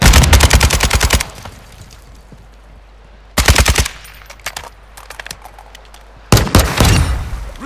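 A Semtex grenade is thrown amid gunfire in a first-person shooter video game: three loud bursts of rapid automatic fire with quieter scattered shots and rumble between them.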